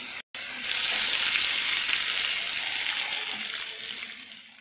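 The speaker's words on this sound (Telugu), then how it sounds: "ఇంకా మనం రెండోసారి కూడా చక్కగా మంచి డీప్ ఫ్రై అయ్యేదాకా వేయించుకుందామండి." Fish pieces deep fry in hot oil, a loud continuous bubbling sizzle that holds steady after a brief break at the start and fades slightly toward the end.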